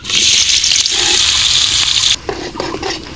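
Chopped onion fries in soybean oil in a wok, making a loud, continuous sizzle with stirring that drops off sharply near the end, leaving softer, broken frying noises.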